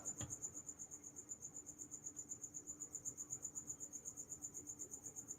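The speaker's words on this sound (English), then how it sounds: "Man, that damn cricket, you're loud" A single cricket chirps indoors, a loud high pulsing trill repeating steadily and evenly throughout, close by and with no talking.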